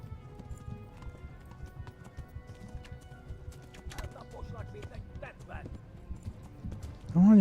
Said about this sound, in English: Come on, you friggin' horse,